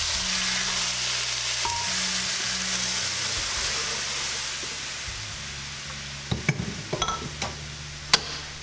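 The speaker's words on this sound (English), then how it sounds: "you're going to pour your sauce into your frying pan" Sauce sizzles steadily in hot oil in a frying pan over medium heat, a continuous close frying hiss, with a few clinks and scrapes of utensils toward the end.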